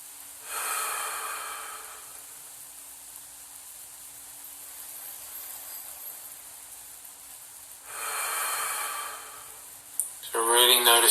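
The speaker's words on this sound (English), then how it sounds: "just taking some deep breaths, breathing in through the nose and out through the mouth." Two slow, deep breaths, each drawn in through the nose and let out through the mouth, sound close and breathy. Long quiet gaps with a faint steady hum separate them, and brief rustling noises come at the end.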